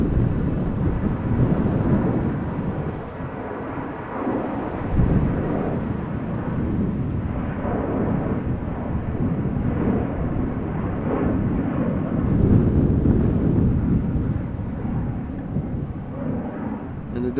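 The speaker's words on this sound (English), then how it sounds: "Will the EasyJet take off in front of us, or will it take off from the threshold?" An easyJet airliner taking off from the runway threshold at Amsterdam Schiphol, heard as a long, distant, deep rumbling roar that swells and ebbs without a break.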